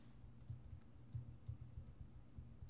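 Arrow keys on a computer keyboard are tapped repeatedly while navigating a selection in Maya, giving soft, close, evenly spaced clicks at a steady rhythm.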